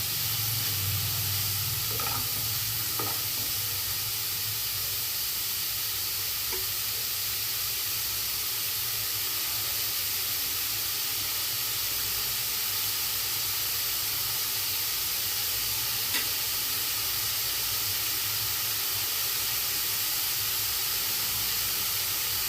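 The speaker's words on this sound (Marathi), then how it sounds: "कांदा चांगला परतून घ्यायचा." Chopped onion sautés steadily in a hot pan, a continuous close sizzle and hiss with a few soft stirring scrapes, no voices over it.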